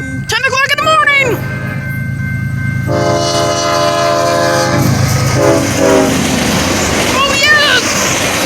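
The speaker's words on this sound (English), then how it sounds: "Oh yes, the whiskey train, yes! Here it comes" A whiskey train passing a road crossing, with loud horn blasts at the start, then the close, steady rumble and rattle of the cars rolling by, and another horn toward the end. Voices of people watching are heard over it.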